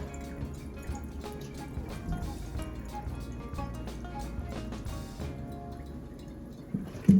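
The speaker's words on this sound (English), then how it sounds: "Turn off the water and then get all that water out as best as you can." Water draining and dripping from a turkey in a kitchen sink, a steady stream of trickles and drips with a final louder clunk at the end.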